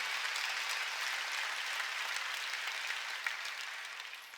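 A congregation applauds during a Sunday worship service at a church, producing steady, dense clapping from many hands throughout that fades slightly near the end.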